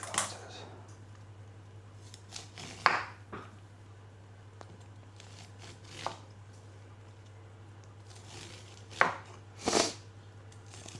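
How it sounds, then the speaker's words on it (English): A knife slices kernels off a charred, cooled corn cob in a quiet kitchen: scattered close, crisp cutting strokes and scrapes, irregular in rhythm, with louder bursts near the end and no talk. "And then you're just going to slice off these kernels."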